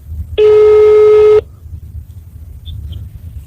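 A telephone line tone sounds loud and steady for about one second ahead of a phone call, then gives way to quiet line noise with two faint beeps.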